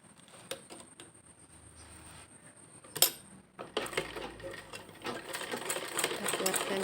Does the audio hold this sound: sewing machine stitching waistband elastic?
yes